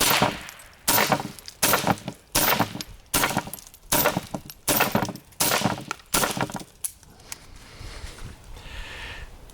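A .22 pistol fired at a target, about nine sharp, evenly spaced shots in quick succession, loud and close, followed by quiet.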